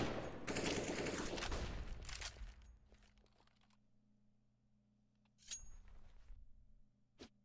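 Pistol fire during a Counter-Strike match, a dense burst of shots up front, then a quieter stretch with a later short burst and one sharp final crack.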